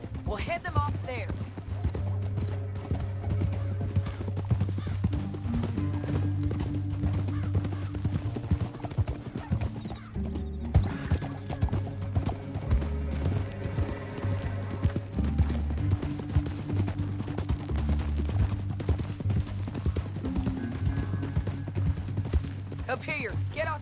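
Horse galloping in Red Dead Redemption 2 through a canyon, steady rhythmic hoofbeats throughout under a voice talking and a music score.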